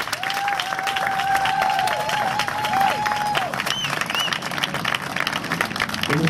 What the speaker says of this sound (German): gebt ihm auch mal nochmal einen Applaus als Veranstalter heute hier